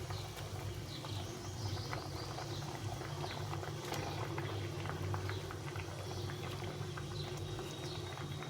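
Pabda fish in a thin mustard-paste curry boil in a pot, bubbling with a dense stream of small pops and gurgles over a low steady hum.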